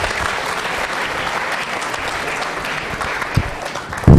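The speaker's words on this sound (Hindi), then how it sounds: "जोरदार तालियां बजाइए।" A studio audience at a devotional television program gives loud, dense applause, a continuous roar of clapping hands that holds steady and ends with a sharp burst.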